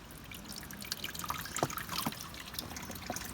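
Water pouring and draining through the body drain channel of a 1996 Mercedes-Benz W202 car, a steady close trickle with scattered drips and splashes running throughout.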